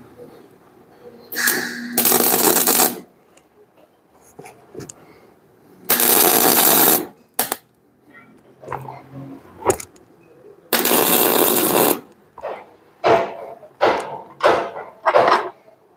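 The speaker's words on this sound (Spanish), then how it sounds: "vamos a soldar una arandela que tenga aproximadamente el diámetro del mismo tornillo" MIG welding a washer onto a broken 8 mm bolt in an aluminium housing of an International DT 408 engine, heard as several loud bursts of harsh crackling hiss of a few seconds each, followed by shorter rapid spurts, with quiet gaps between.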